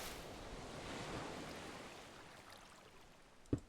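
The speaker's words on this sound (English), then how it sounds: "Still don't know how we're getting ocean noises." Ocean waves wash through an underwater cavern in a video game, a soft, steady surf rush with a faint wind-like hiss, fading slightly, ending in one brief sharp knock.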